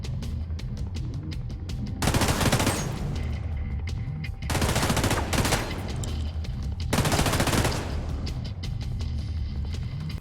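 Enemy gunfire in The Division 2, three heavy bursts of sustained automatic fire a couple of seconds apart, with lighter scattered shots between them.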